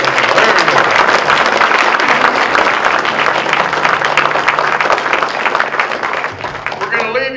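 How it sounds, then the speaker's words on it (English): Sustained applause from an audience, dense clapping that stays loud throughout before tapering slightly, with a voice rising at the very end. "That's a clap for us."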